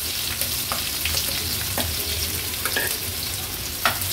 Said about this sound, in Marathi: लसूण थोडासा तेलावर परतून घेऊया